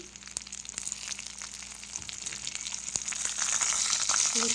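Garlic drops into hot oil already frying dried chilli and black cumin, giving a close, steady sizzle that grows louder and fuller toward the end.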